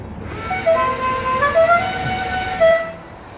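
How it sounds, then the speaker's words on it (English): The air horn of the General Lee, a Dodge Charger with a 440 engine, plays a short tune. Several clear melodic toots sound close by over a low background rumble, and the horn cuts off at the end. "And he does have the air horn set up for it, as you just heard it play."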